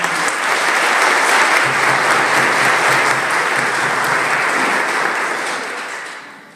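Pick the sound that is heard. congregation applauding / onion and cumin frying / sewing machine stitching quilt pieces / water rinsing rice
congregation applauding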